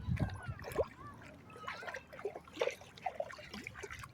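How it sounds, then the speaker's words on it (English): A dog splashes and plays in water outdoors, giving irregular close trickles, sloshes and splatters at varying strength, with faint voices now and then in the background. "He plays in the water a lot."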